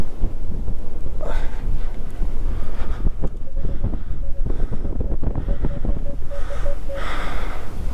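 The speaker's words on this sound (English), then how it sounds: "I do apologise for this wind. It is really strong here," Strong wind on an exposed hilltop buffets the microphone with loud, continuous rumbling gusts throughout, with a faint tonal hum partway through.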